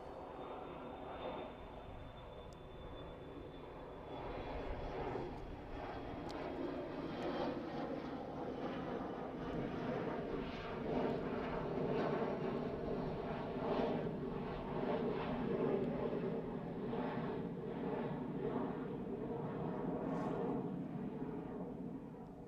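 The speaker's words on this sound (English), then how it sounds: "And as that one just climbs out, the Ryanair touches down." Aircraft at Manchester Airport, one climbing out as a Ryanair airliner touches down, give a distant, steady engine roar that builds and lingers for the whole stretch without speech.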